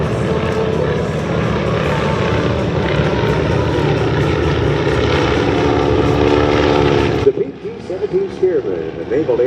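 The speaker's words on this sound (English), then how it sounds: "The Stearman were one of the strongest trainers built during World War II." A Boeing Stearman biplane trainer flies at the Good Neighbor Day Air Show 2022, its radial engine droning loud and steady for several seconds before dropping away abruptly, with people talking over the end.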